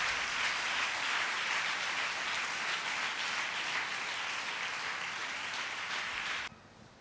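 A church congregation at a pastor's special message claps loudly and steadily for several seconds, a dense wash of applause that cuts off abruptly near the end.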